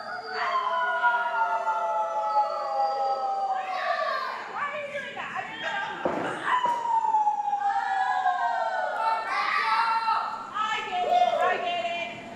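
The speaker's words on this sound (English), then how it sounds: "But they're howling for the Wolf here tonight too." A wrestling crowd howls like wolves for a wrestler called the Wolf, long rising and falling wails from many voices blending together, loud and sustained.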